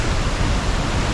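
Waterfall near Dumaguete in the Philippines, a loud, dense, unbroken rushing roar of falling water filling the short moment with no voices.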